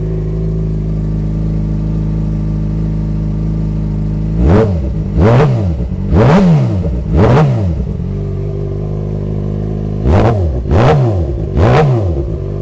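A Yamaha FZ6R motorcycle with an aftermarket exhaust idles steadily nearby, then is blipped through a run of four sharp revs, a pause, and three more, each rising and falling back to idle.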